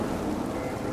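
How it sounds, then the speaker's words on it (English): Steady rain in the video game Mortal Shell 2 hisses continuously at night, a dense, even patter with a low rumble underneath and no voices. "it is now raining."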